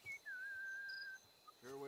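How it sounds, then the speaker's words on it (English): A character in the video game Mafia whistles a short tune: one clear, sustained note that rises and then holds for about a second, followed by a brief chirp and the start of a voice. "if you didn't whistle, I wouldn't even know you were here"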